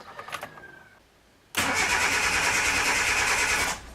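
Suzuki Samurai engine cranked over during an EFI ignition conversion: faint clicks and a brief whine, then a loud, steady starter-driven cranking drone that runs for about two seconds and stops.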